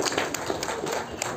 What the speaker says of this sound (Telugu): అండ్ ఒకసారి గట్టిగా క్లాప్స్ కొట్టండి.